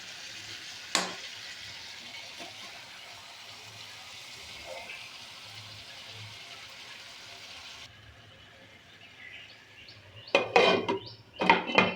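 Peas, potatoes and boiled cabbage stir-fry in a pan. A faint hiss runs for several seconds, then louder metal scraping and clattering strokes come near the end.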